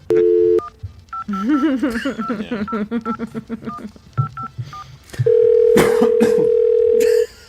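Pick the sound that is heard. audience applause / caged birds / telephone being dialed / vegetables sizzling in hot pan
telephone being dialed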